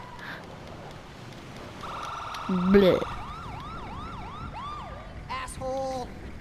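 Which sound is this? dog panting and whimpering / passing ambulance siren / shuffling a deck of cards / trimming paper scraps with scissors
passing ambulance siren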